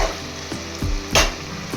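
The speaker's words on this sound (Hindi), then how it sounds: "बत्ती फुल करके, फ्लेम फुल करके ऐसा भून लेना" Meat frying hard over a full flame for Mughlai pasinde, a loud continuous sizzle with a few sharp stirring scrapes, close and alone.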